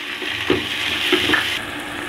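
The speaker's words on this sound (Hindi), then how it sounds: "इसको भी अच्छे से भून लेंगे ताकि इसका कच्चापन दूर हो जाए" Onions and tomatoes frying in a pan for kulth dal, giving a continuous close sizzle with a couple of soft stirring knocks.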